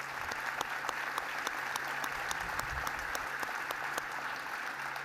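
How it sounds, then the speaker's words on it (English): A fairly quiet, distant crowd at a State of the City address applauds the city council members, even continuous clapping with a few sharper claps standing out. "our council members deserve a round of applause for that."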